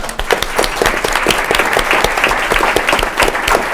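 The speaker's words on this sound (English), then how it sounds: "Round of applause." Loud, continuous applause from an audience at an organ, eye and tissue donation event, many hands clapping densely and evenly throughout.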